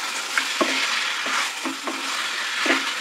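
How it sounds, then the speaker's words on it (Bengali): Chicken sautés in a pan for a Bengali chicken dish, a steady close sizzle broken by several scraping stirs at irregular moments, with no voices. "এটাকে ভালো করে আমি কষিয়ে নেব, ভালো করে কষাতে থাকবো।"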